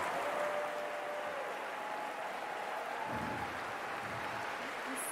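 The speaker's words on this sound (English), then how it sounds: "let's give them a round of applause" An award ceremony audience claps for students at an environmental prize event, a steady, moderately faint patter of hands that holds evenly, with a voice briefly audible near the middle.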